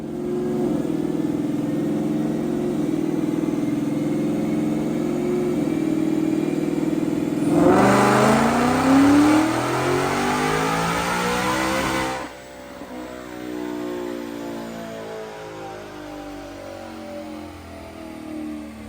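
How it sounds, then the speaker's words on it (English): A 2024 Mustang GT automatic with a Whipple supercharger on a 3.375 pulley, MS109 headers and 93 octane makes a dyno pull: a steady idle-like drone climbs into a loud, rising wail of revs, then cuts off and settles lower. "We're gonna look at a dyno pull, and then we go over the graph."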